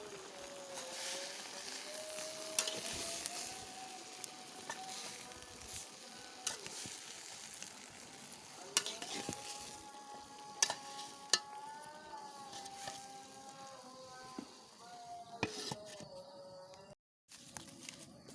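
A hidol fish curry with a little spice cooks in a pan, giving a faint, continuous sizzle. Occasional clinks and scrapes come from stirring, and a wavering tonal sound carries on in the background throughout.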